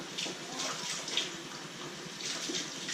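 Warm water runs from a kitchen tap while pizza dough is being prepared, a steady hissing gush lasting the whole time, close and fairly soft, with no voices.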